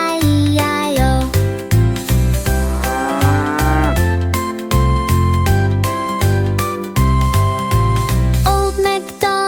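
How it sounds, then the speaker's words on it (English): A cartoon cow moos within a loud, bouncy children's farm song, its drawn-out lowing blended into steady music with instruments and singing throughout. "With a moo-moo deep and a moo-moo loud."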